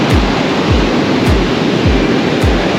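Loud, continuous ocean surf rolls in at a beach on the Sapphire Coast near Pambula and Merimbula, with a dense roar of breaking waves and rhythmic low surges about every half second.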